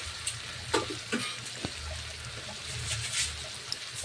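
Drumstick pieces and pumpkin fry with spices in a pan, a steady low sizzle with occasional soft stirring scrapes and clicks, close and fairly quiet, no voices.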